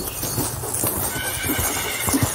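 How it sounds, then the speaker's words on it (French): Several horses gallop in their enclosure a few metres away, hooves clip-clopping in quick uneven beats with a whinny breaking through, moderately loud. "On entend le bruit de quelques chevaux galopant dans leur enclos, à quelques mètres d'eux."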